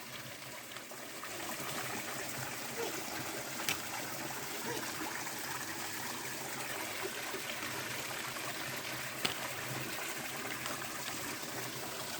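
A forest waterfall stream behind a rubber plantation rushes steadily and continuously, a dense broadband wash of flowing water filling the whole stretch with only faint occasional clicks above it.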